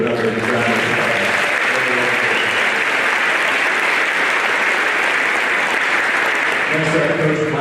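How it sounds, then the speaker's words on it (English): Steady, loud crowd applause rolls through a school gym at an athletic signing celebration, continuous dense clapping for several seconds while someone speaks at the start and again at the end. "if everyone can give Cooper another round of applause"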